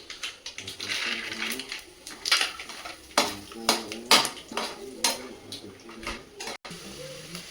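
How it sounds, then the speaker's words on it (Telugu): Peanuts frying in a pan during semiya upma preparation, with repeated clinks and scrapes of a utensil against the pan over a steady background hiss, close and moderately loud. "పల్లీలు కూడా వేగిపోయినాయండి."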